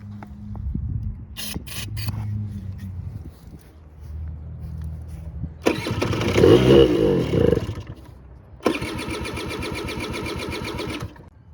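A 1985 Honda Aero 50 scooter engine cranks and tries to catch, with bursts of buzzy two-stroke running, uneven and close, broken by short pauses between attempts.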